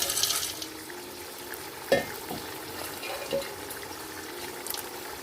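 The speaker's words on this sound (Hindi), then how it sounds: "और इनको अच्छे से भून लेंगे।" About half a kilo of green peas is stirred in a pan for a jungle pulao. The sound is a soft, low frying hiss with occasional scraping knocks from the spoon, faint and close, and no one speaks.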